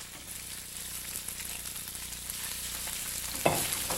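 Shrimp seasoned with salt and pepper frying in a hot pan, a steady, even sizzle throughout with a brief stirring scrape near the end.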